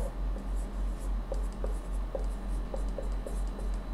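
A pen or marker scratches steadily across a board in a classroom, with short repeated strokes in an even rhythm, soft and close over a low constant hum, and no talking.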